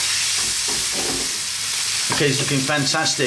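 Garlic and ginger sizzle and fry on a lively heat while being stirred, a steady bright hiss with scraping stirs for a beetroot tomato curry; a voice speaks briefly near the end.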